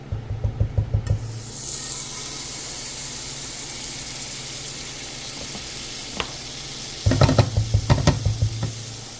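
Butter melting and sizzling in a pot for shrimp and crab soup, a loud sustained hiss, framed at start and end by rapid rhythmic scraping and stirring against the pot, with no talk.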